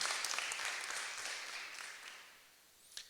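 Audience applause at a town hall gathering, a dense wash of many hands clapping that fades gradually toward the end, with a brief louder burst just before it stops.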